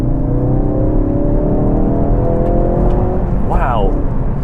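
Tuned Ford Focus RS hatchback pulling hard in third gear, a loud rising engine note with climbing harmonics over road roar from inside the car, ending in a brief sharp burst near the end.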